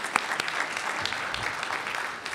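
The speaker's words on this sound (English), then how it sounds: "Have a round of applause for James." Audience applause for James, a board member honored at a state address meeting, a dense steady patter of many hands clapping at close range for a couple of seconds, with no voices over it.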